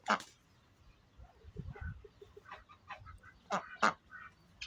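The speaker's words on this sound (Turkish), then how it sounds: "Burada kazlar, ördekler, hepsi beni dinlerler." Geese and ducks call in short, scattered honks and quacks, a few loud bursts standing out among softer calls from nearby birds.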